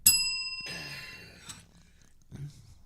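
A small bell rings with a bright, sustained metallic ding that decays, then a second strike rings out, followed by faint thumps and a brief low voice.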